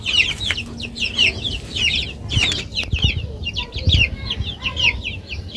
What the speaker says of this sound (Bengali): টাইগার মুরগির বাচ্চা।